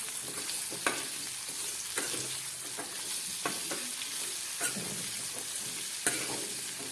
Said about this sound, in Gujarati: હવે તેમાં આપણે કંટોલાને નાખી દઈએ. હવે આપણે કંટોલાને સારી રીતે મિક્સ કરી દઈએ.